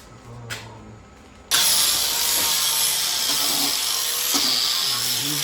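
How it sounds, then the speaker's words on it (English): Angle grinder working a rusty Toyota Tacoma frame: after a quiet start with a brief tap, the grinder bites in abruptly and holds a loud, steady high-pitched grinding whine with slight load changes to the end. "grinding all that"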